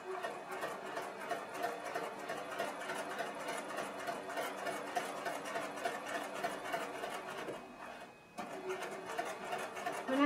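A sewing machine stitches in the ditch between quilt blocks through three quilt layers, running in a fast steady mechanical whir, close up, with one brief stop near the end before starting again.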